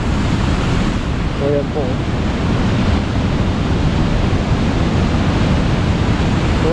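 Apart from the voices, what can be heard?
water pouring strongly over a dam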